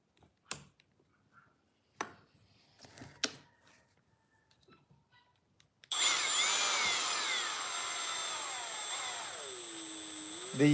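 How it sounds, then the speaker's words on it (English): A power screwdriver with a deck screw bit drives long hex cap screws, first a few scattered knocks as parts are set, then a loud continuous motor whir that rises in pitch near the end. "The deck screw driver bit fits perfectly these hex cap screws."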